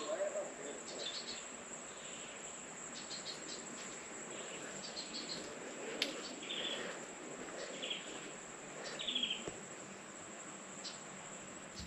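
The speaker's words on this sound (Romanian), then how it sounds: "Vă rog să ascultați câte sunete, câte păsări se aud, câte insecte." Dense jungle ambience on the grounds of a five-star resort in Zanzibar: constant insect and cricket chirring, with scattered bird calls and chirps near and far throughout, and no talk.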